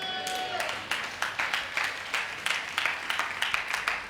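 A Tamil church congregation claps during a Sunday service, first a few scattered hands and then a run of rhythmic claps, with a voice briefly heard at the start.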